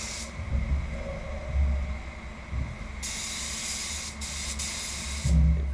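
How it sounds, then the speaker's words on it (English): An HVLP spray gun lays silver paint on a BMW 320i with a soft, continuous hiss, broken into short bursts and pauses as the trigger is pulled and released, fairly close and alone. "I found that with the HVLP gun they can throw a lot of paint on"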